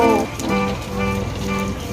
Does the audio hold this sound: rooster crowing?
no